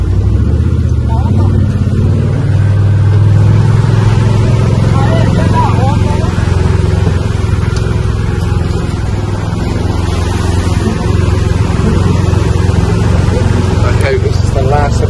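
A vehicle pushes through deep flood water on the streets of Holbox island, a steady loud engine drone with sloshing water throughout, while people talk over it.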